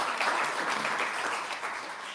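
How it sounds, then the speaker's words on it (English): A small audience at a bookshop reading event applauds in a steady, fairly faint patter of many hands that keeps going without talk. "for hosting this event so round of applause to"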